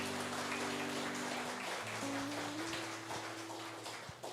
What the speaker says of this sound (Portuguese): agradeça o Senhor com uma salva de palmas